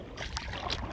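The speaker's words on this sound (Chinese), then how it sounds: "看小船儿推开波浪" A small rowing boat pushes through sea waves off Martinique in the Caribbean, giving a brief, steady wash of splashing water with a couple of sharper slaps against the hull.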